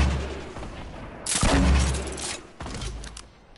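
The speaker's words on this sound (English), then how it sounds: "someone got a grenade launcher" A grenade launcher fires in a video game firefight, with a loud blast swelling at the middle into a heavy rumbling explosion and a second thump near the end, alone without talk.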